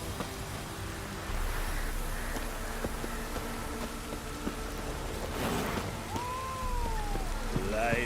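Steady rain falls in The Witcher 3 video game as a constant hiss and patter throughout, with a faint rumble underneath and a brief voice near the end.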